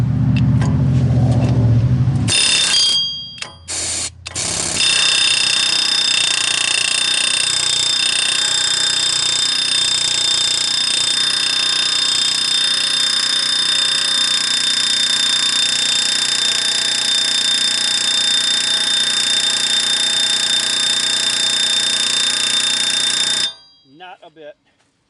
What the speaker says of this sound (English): I'm going to try the air hammer, but I'm very doubtful.